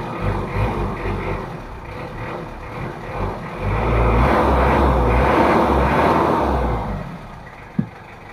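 A Mitsubishi L300 diesel engine runs steadily at low idle, a continuous rumble that swells for a few seconds in the middle. A single sharp click sounds near the end.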